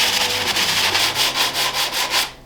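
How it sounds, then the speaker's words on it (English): Sandpaper is rubbed by hand across a soft firebrick to shape a chamfer, making a close, loud, gritty scraping in about nine even back-and-forth strokes that stops abruptly at the end. "10 seconds of sanding and I'm already creating that chamfer."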